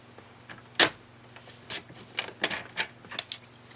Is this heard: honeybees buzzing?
no